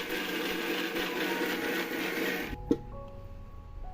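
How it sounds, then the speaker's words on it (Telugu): A kitchen mixer grinder whirs steadily while blending guava juice with water, a loud continuous motor hum that cuts off sharply near the end, leaving quiet room tone and a faint click. "ఇప్పుడు మిక్సీ చేస్తున్నాను."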